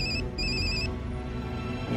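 Telephone ringing in a TV drama scene, two electronic rings with a short gap between them, clear over a low room hum, followed by quiet background.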